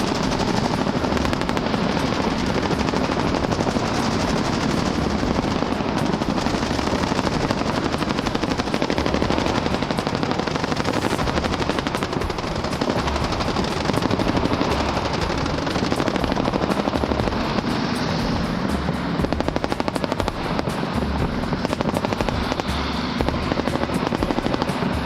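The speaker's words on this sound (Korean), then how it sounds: "공중에는 코브라 헬기가 나타났다. 명품 무기로 잘 알려진 전투용 헬기다." Cobra attack helicopter thudding overhead while its gun fires in long rapid bursts, a loud, dense, continuous roar of rotor and gunfire throughout.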